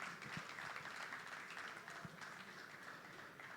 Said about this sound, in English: Please don't stop clapping till she gets here